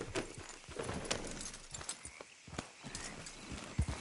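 A horse gallops in the video game Red Dead Redemption 2, its hooves clip-clopping in a quick, uneven rhythm at close range over a busy outdoor backdrop.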